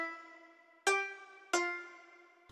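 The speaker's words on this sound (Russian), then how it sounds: "Вот так второй звучит, самое близкое к ситаре." A Korg synthesizer preset with a twangy, sitar-like tone plucks three notes, each attack bright and buzzy with a ringing decay, quiet and alone.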